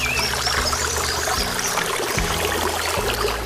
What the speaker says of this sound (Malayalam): പതഞ്ഞൊഴുകുന്ന വെള്ളത്തിന്റെ ശബ്ദം കൂടുതൽ അടുത്തെത്തിയതുപോലെ